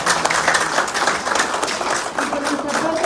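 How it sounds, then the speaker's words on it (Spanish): Applause from a crowd at an environmental fair, a dense, steady clatter of clapping for a few seconds with voices mixed in. "La despedimos con un fuerte aplauso"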